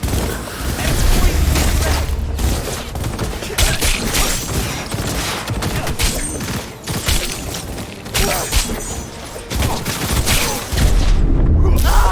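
Gunfire during a firefight in the video game Cyberpunk 2077: loud, rapid bursts of shots and booms that come repeatedly in clusters, with brief pauses between volleys.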